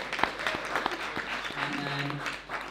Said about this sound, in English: Big round of applause, man.